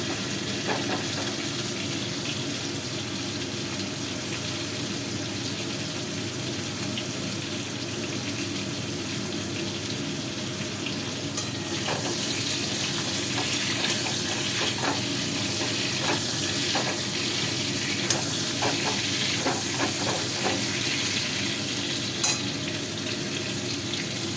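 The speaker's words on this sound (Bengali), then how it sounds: "পটলগুলোকে ঘুরিয়ে ঘুরিয়ে এপিট ওপিট করে ভালো করে একটু বেশ ভালো করে ভাজা" Pointed gourd (potol) pieces frying in oil in a pan, stirred and turned over and over; a continuous close sizzle that grows louder and busier midway, with scraping stirs and no talking.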